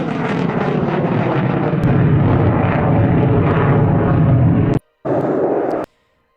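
An F-35 fighter jet flying low gives a loud, steady roar that cuts out for a moment, returns, and then stops abruptly.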